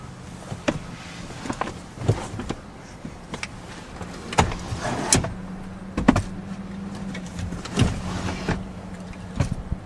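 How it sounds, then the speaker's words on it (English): Rear seat of a Buick Enclave released by a lever and slid forward, a series of close clicks, clunks and short sliding scrapes with a low hum beneath. "One lever, slide the seat up."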